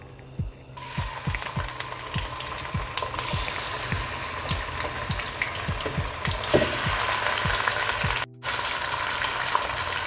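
Mutton frying in half a cup of oil in a pan, a steady, loud sizzle throughout with repeated clinks and scrapes of stirring; no talk.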